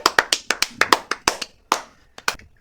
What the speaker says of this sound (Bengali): সিয়ামের জন্য একটা হাততালি হোক সবাই